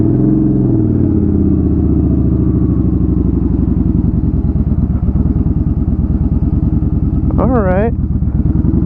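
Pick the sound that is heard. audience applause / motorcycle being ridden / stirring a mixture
motorcycle being ridden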